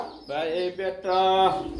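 Pigeons from a black-colored breeding pair for sale, cooing in two close, throaty calls with a short pause between them.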